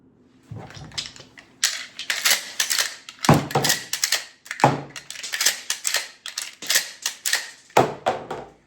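Shotgun shells loaded into a Winchester 1897 pump shotgun during a cowboy action stage, a quick run of sharp clicks and metallic clacks in a rapid irregular rhythm, close and loud.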